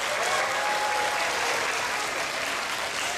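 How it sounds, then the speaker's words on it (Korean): A children's summer camp audience at a church gathering applauds its teachers with steady, dense clapping that fills the room evenly and holds without a break. "우리 귀한 선생님들 위해서 한번 박수 한번 보낼까요?"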